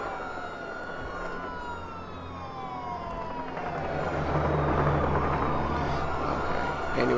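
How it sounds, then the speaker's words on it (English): Police sirens wail in a crime-ridden SimCity 5 city, several overlapping tones sweeping steadily at moderate distance over a low traffic rumble, growing slightly louder toward the end. "we're gonna probably hear sirens forever because this is a crime-ridden city"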